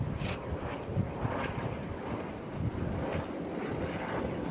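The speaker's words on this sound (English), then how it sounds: "It appears to be a medical helicopter." A steady low rumble of a medical helicopter passing overhead near Nashville International Airport, blended with gusty wind buffeting the microphone.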